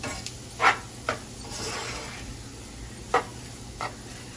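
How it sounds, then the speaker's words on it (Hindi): Anda ghotala egg dish stirred in a pan with the heat off, a soft low sizzle broken by four or five sharp spoon scrapes and taps against the pan, close and fairly quiet, without speech. "अब हम इसे बंद कर देंगे और हिला देंगे"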